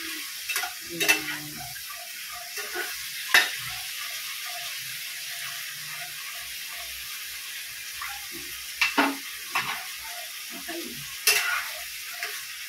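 Chicken adobo sizzles and fries in a pan while a spoon stirs it, giving faint crackling under scattered sharp scraping clinks and knocks against the pan, with soft watery bubbling between.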